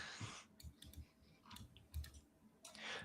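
Quiet clicking of computer keyboard typing in an irregular burst of keystrokes, faint and close.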